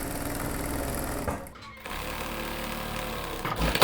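A sewing machine runs at steady speed stitching a curved seam on a 90s-style jeans pocket, with a continuous close mechanical whir, a brief pause in the middle, then stitching again.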